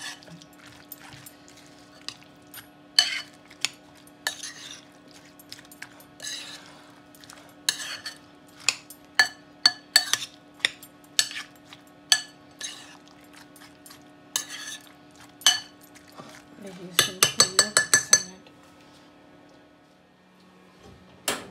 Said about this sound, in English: Now stir it all up, and you got your yogurt salad.